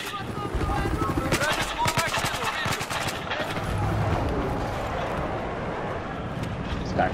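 Hostile machine gun in Battlefield 4 firing rapid sustained bursts, loud and close at the start, then continuing as dense battle noise under the voices of players talking.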